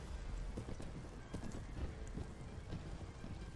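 Horse hooves clip-clopping at a steady trot in the medieval combat game Mount and Blade Warband, with occasional neighs over a constant windy outdoor rush.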